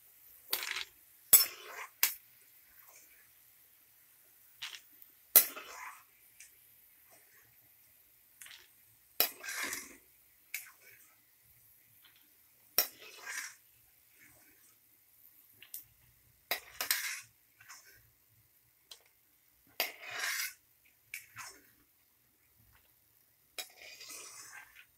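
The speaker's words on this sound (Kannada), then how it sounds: "ಈಗ ಒಂದು ಪ್ಲೇಟ್ಗೆ ತೆಗೆದಿಟ್ಕೊತಾ ಇದ್ದೀನಿ" Fried peanuts are tipped and scooped onto a plate, giving a string of sharp, bright clinks of dishes and utensils at irregular intervals, close by, with quiet pauses between them.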